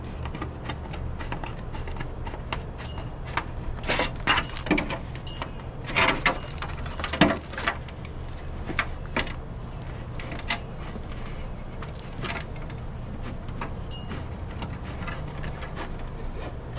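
Old scissors cutting a thin plastic ceiling panel during a Max Air fan install, with a series of close crisp snips and crackles at an irregular pace among quieter handling rustles.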